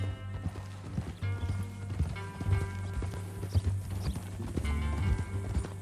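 Horse hooves clip-clop in Red Dead Redemption 2, a steady run of close, rhythmic hoofbeats with some creaking tack over a low hum.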